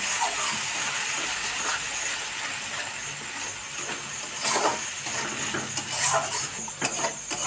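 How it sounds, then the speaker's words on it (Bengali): Ginger, cumin and chilli masala frying in oil, a steady close hiss and sizzle with occasional clinks of a spatula against the pan, no voices. "মশলাটাকে কষিয়ে নেবো খুব সুন্দর করে"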